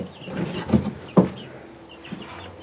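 Chickens at a ranch chicken house give a few scattered clucks, close and fairly clear, with two louder calls standing out over quiet farmyard background.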